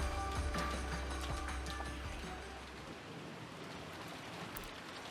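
Steady rain hissing and pattering in the Umineko visual novel video game, with a low rumble easing off after a few seconds as the downpour continues alone at moderate level.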